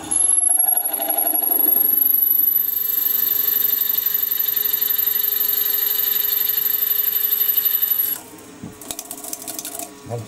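A 10mm cobalt drill bit grinds steadily through metal with a high, sustained whine and mechanical chatter, then winds down, leaving quieter clicks and rattles.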